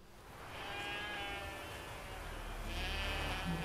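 Sheep in The Witcher 3 game bleat in two short calls, one near the start and another toward the end, over a faint steady outdoor ambience.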